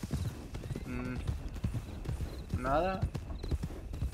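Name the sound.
horses clip-clopping in video game RedM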